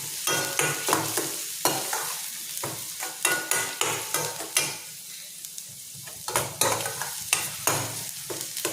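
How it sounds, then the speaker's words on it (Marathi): Onion, mustard seeds and curry leaves fry in hot tempering oil, a close crackling sizzle broken by repeated sharp scraping strokes of a spoon stirring the pan. "कांदा घातला, मोहरी फोडणी घातलेली आहे आणि कांदा आणि कढीपत्ता फोडणीला टाकलेला आहे"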